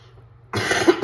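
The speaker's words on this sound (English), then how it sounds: "Sorry, I didn't cough too much." A single close cough after a brief quiet lull, short and fairly loud, with no talk in the moment.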